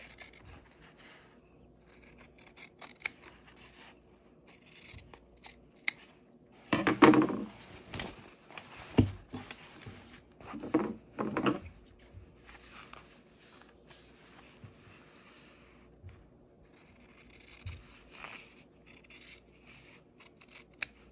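Fabric scissors snip and slide through a pant leg in short bursts, crisp and close, separated by quiet stretches of handling while hemming pants.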